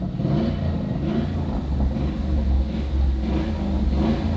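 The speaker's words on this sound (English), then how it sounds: "it genuinely sounds like a healthy car" A 61,000-mile car's engine runs steadily with a deep, throaty rumble, swelling into a few revs before settling, close and loud with no talking.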